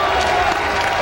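A crowd at the 2007 NFL Draft reacts to a pick with a steady, mixed roar of boos and applause filling the whole moment.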